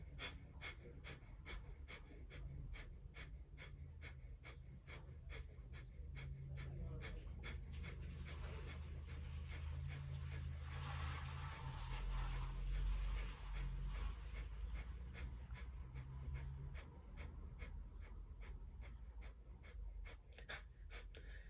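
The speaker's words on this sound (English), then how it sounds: "we're just gonna pump the navel, breath of fire together, beginning now" Rapid rhythmic breath of fire, short forceful exhalations pumped from the navel in a steady fast pulse throughout, close and continuous with a low hum beneath, no talking.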